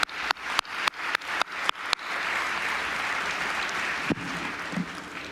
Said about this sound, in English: can you join me, please, in a round of applause for our ministerial panel?